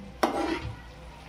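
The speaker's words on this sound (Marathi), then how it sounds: "आता याला आपण ग्रेव्हीमध्ये मिक्स करून घेऊ" Mushrooms stirred into a thick dhaba-style masala gravy in a pan, one quick scrape and wet squelch of a spoon, brief and close, then fading into a faint sizzle.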